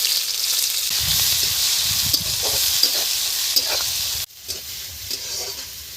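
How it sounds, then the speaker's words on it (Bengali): Chopped onion dropped into hot oil tempered with nigella seeds, sizzling loudly and steadily, a bright frying hiss that settles down after a moment as stirring continues. "পেঁয়াজ দিয়ে দেব।"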